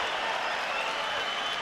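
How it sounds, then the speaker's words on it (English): Crowd applauding during the final round of a Roman Gonzalez vs Srisaket Sor Rungvisai boxing match at Madison Square Garden, a dense, steady wash of clapping and cheering that fills the whole moment, with a commentator's voice faintly underneath. "The crowd is appreciating this."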